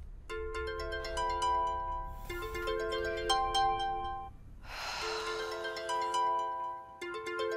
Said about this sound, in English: My phone went off too.